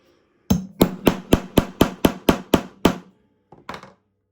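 Hammer blows set a rivet on a satchel bag, nine quick, evenly spaced, close thuds followed by a pause and two lighter taps, with no voices.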